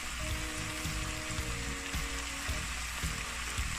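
Vegetables go into a hot pan for Jamaican steamed fish, giving a loud, continuous close sizzle and crackle with faint stirring, and no voices.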